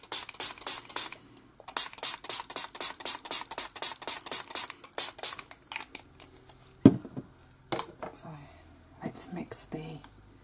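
Pump spray bottle spritzing water onto Inka-Gold metallic paste, a close run of about twenty quick rhythmic hissing sprays followed by a few scattered ones, with soft talking near the end.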